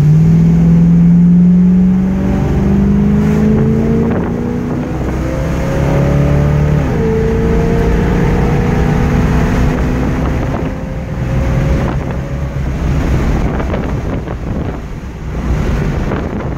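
A 1973 Chevy Camaro Z28 with a 6.2 engine drives along, its engine note loud and droning as it rises through the gears, with heavy wind rush over the whole ride.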